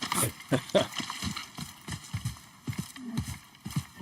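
A horse's hooves clop in uneven rhythm in the video game Assassin's Creed Mirage, with a brief whinny near the start and no talking.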